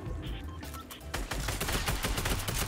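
Tactical assault rifle gunfire in Fortnite: Battle Royale, a rapid string of close, loud shots that grows denser after a short lead-in of game noise.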